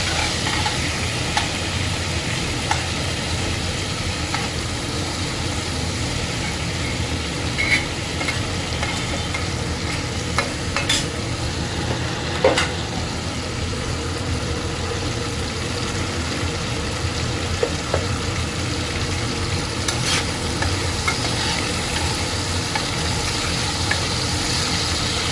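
Potatoes fry in a pan with a steady, close sizzle, and the stirring adds scattered scrapes and clinks throughout.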